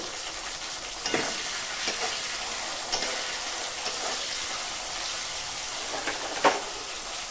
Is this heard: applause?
no